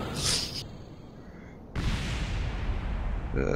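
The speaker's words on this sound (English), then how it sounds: "Small explosion." A small rocket explosion in Kerbal Space Program: a sudden burst of broad noise cuts in partway through and roars on steadily over a hissing, rumbling game soundscape.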